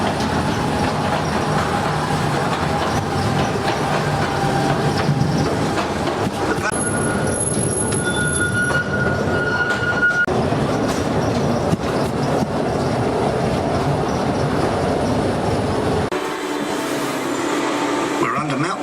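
A small underground mail railway train in London rumbles and clatters loudly along rails, with a high metallic wheel squeal partway through, then the noise shifts abruptly near the end.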